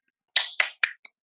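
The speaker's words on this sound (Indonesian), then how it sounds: "Tepuk tangan semuanya buat Sipa dan teman-temannya tadi yang sudah menjawab" A few claps from a classroom of students, four sharp separate slaps in quick uneven succession, close and fairly loud, no talk.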